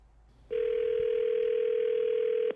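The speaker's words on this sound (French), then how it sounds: "Louis-Philippe Brûlé, a tenté de rejoindre M. Plouffe au téléphone." A loud steady telephone dial tone rings alone for about two seconds, starting and stopping abruptly, as a 104.7 FM radio host tries to call a man by phone during a live broadcast.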